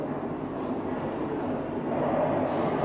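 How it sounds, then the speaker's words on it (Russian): Steady low rumble of trams in the streets around the Schindler factory area of Kraków, continuous and moderately loud throughout with no talking. "И звуки, постоянные звуки трамваев, выстрелов."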